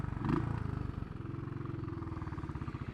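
A Royal Enfield Classic 500 motorcycle being ridden crackles close by in a rapid, steady stream of sharp exhaust pops, like fast machine-gun bursts, with no talking.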